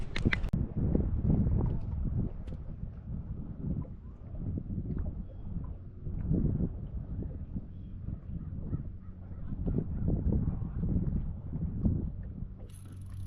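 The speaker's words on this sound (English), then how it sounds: "So I apologize for the wind" Wind buffets the microphone on a fishing boat on a lake, making a heavy, fluctuating low rumble that surges and fades throughout, with no clear speech.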